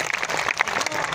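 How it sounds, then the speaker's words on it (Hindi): Audience at a Hindi kavi sammelan poetry festival in Nokha applauding with both hands raised, a dense, loud burst of clapping filling the whole short moment. "दोनों हाथ उठा के बड़तालियां बजा दिया"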